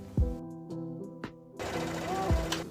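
A sewing machine stitches sleeves onto a ruched top in short bursts, with a longer steady run toward the end. It sounds close and moderately loud, with thumps from handling the fabric in between.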